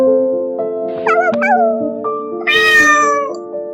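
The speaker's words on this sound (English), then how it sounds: "Kittens meow, meow meow." A kitten meows twice over a bright, steady children's farm-animal tune. The first cry is short and high, and the second is longer and louder.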